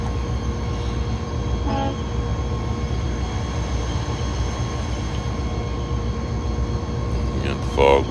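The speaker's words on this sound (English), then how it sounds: "Got the fog whistles going." A train's fog whistle drones steadily and continuously from a distance over a low rumbling background on a foggy morning, with a couple of brief sharper noises near the end.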